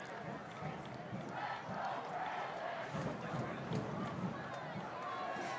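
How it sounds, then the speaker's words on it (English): Crowd noise fills a high school football game on senior night, a steady roar of many voices and cheering from the stands, broad and continuous without a clear single speaker. "Getting a lot of crowd noise here tonight, Keegan."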